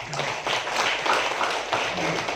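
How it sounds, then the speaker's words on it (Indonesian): Audience applause at an education office gathering in Mojokerto, a dense, steady patter of many hands clapping throughout, moderately loud with faint murmuring mixed in. "Tepuk tangan Bapak Ibu"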